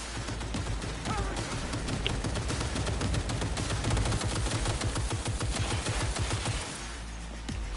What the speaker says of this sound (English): Now I have the machine gun.